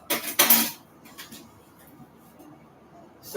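Chicken noodle casserole stirred after a teaspoon of Italian seasoning goes in, starting with a couple of loud clinking scrapes of a utensil against the dish, then softer faint scraping and stirring.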